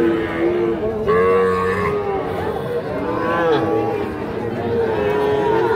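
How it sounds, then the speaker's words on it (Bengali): Young Sahiwal bull calves moo repeatedly, several drawn-out calls overlapping nearby, amid the murmur of a crowd at a cattle market. "এগুলো সব শাহিওয়াল ষাঁড় বাচ্চা"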